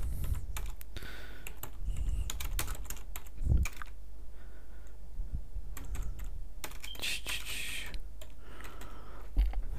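Rapid keyboard typing in a Minecraft session, bursts of close clicky keystrokes in uneven runs with brief pauses, steady room noise underneath and no talking.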